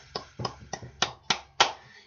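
A few single hand claps, about six of them, sound close and sharp at a quick, even pace, with short gaps between them instead of sustained applause.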